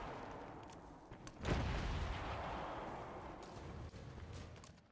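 Artillery firing in the strategy game Civilization VII: one deep boom bursts out partway through and rumbles away, with faint sharper clicks scattered around it and no speech over the top.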